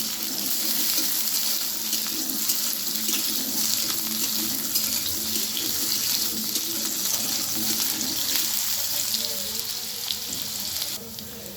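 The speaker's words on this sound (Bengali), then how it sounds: "দিয়ে দিচ্ছি আলুগুলো আমি খুব সুন্দর করে ভেজে নেব" Potatoes tossed with panch phoron sizzle hard in a hot pan, a dense, steady, close-up frying hiss that runs without a break and eases slightly at the very end.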